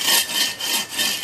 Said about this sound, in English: I like this saw, guys. This is a little bit of cutting.